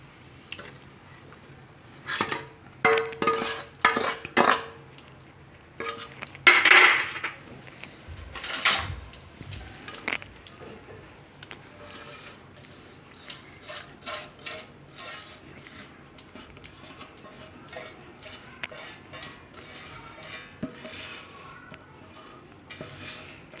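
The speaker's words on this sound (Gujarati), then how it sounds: "હવે આ મસાલો આપણે નાખી દઈશું આમાં અથાણાની અંદર." A metal spoon mixes spice masala into a bowl of mixed pickle, giving irregular scraping, clinking and stirring sounds in bursts with quiet pauses between, close and fairly soft.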